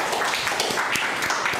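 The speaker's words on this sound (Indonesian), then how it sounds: "Berikan tepuk tangan." An audience claps after a group presentation on cooperatives in a classroom, a dense, steady patter of many hands at moderate loudness.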